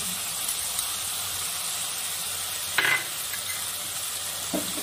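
Ground spices with salt, cumin, turmeric and chilli powder fried and stirred in a pan for a fish dish, a steady soft sizzle with a brief louder scrape of stirring near the middle, close and alone.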